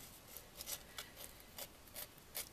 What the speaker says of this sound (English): sand that in a little bit